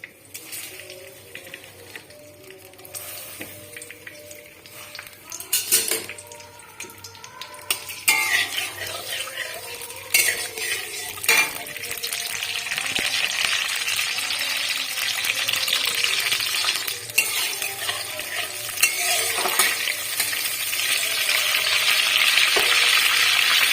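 Dry red chillies, bay leaves and panch phoron hit hot oil in a pan, starting with scattered clinks and pops, then a crackling sizzle that swells and stays loud and close.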